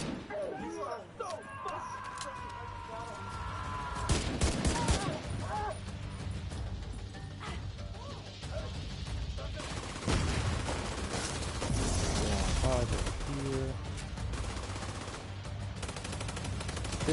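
Rapid bursts of automatic gunfire and scattered single shots ring out in the shooter game The Division 2, loud and continuous, with voices talking over the combat.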